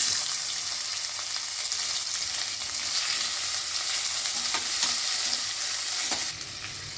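Ground coconut and sesame paste sautés in hot oil and ghee for bagara rice, giving a steady, close sizzle with occasional stirring scrapes.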